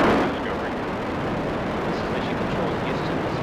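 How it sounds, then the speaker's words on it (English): Space Shuttle Discovery's final STS-133 liftoff roars as a loud, continuous broadband rumble from the solid rocket boosters and engines, steady and distant-sounding with no break. "Booster ignition and the final liftoff of Discovery"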